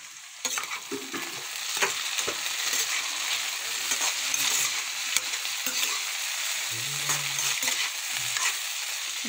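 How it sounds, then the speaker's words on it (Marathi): Beans stirring and frying in hot oil in a pan, with a steady sizzle and repeated scraping stirs close up, and no voices. "शेंगा चांगल्या ढवळून घेऊ आणि तेलामध्ये फ्राय होते"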